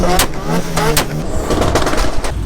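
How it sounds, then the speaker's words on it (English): An Audi S4 drives on the strip at a Japanese car show, its engine note loud and close and rising with revs, with crowd noise and voices around it. "Audi S4 going on the strip"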